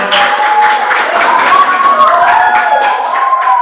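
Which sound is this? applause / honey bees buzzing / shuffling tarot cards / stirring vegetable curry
applause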